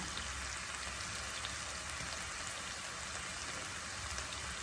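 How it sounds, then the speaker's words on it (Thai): Half-sweet mushrooms pan-grilled in a frying pan, with a salt seasoning, give off a steady, dense, hissing sizzle that runs unbroken and close throughout, with no voices over it. "ตอนนี้ผัดให้สุกนะคะ แล้ววันก็จะย่าง เหมือนย่างนะคะ ย่างในกระทะ"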